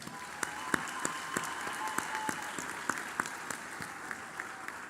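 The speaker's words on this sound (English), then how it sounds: "Another round of applause for our graduates." At a medical graduation pledge ceremony, an audience gives graduates a round of applause, a thin spread of sharp individual claps with distinct hand strikes standing out, moderately distant.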